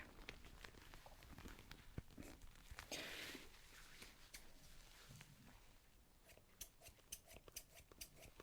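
Scissors snip in a quiet, close layered ASMR grooming role-play, with a series of short crisp cuts scattered irregularly throughout.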